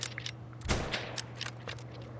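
Rifle shots while hunting moose at a feeder: one loud, sharp crack stands out, followed by a few fainter, scattered reports over a steady outdoor hum.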